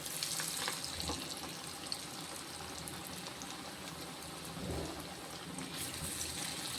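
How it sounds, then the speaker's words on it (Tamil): Lentil vadas (paruppu vadai) deep-frying in hot oil, a faint, even bubbling fizz running throughout with occasional small crackles. "அவ்வளோதான் போட்டாச்சு பருப்பு வடை வந்து நல்லா வெந்துருச்சு"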